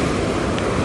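Sea waves wash on a beach at Alicante, a steady broadband surf rush with some wind noise, heard alone over a brief moment.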